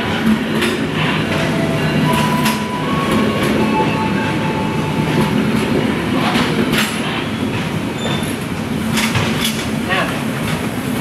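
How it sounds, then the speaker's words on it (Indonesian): The Gajayana train, hauled by a CC 206 locomotive, rumbles loudly and continuously into Tulungagung station, with steady rail noise, faint clanking and brief high squeals as it rolls in. "kereta api Gajayana akan segera tiba di stasiun Tulungagung"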